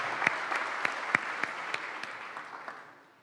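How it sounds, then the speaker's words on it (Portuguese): Audience applause at an inauguration ceremony for presidents of affiliated organizations, a steady patter of many hands with a few sharper claps standing out, fading gradually toward the end. "eu quero pedir também uma salva de palmas para as famílias que estão aqui"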